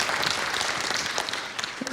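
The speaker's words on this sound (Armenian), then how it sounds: "եկեք հրատարակչին ծափարենք" An audience applauds a publisher at an evening book presentation in Armenia, with dense, even clapping that holds steady for the whole stretch at moderate loudness.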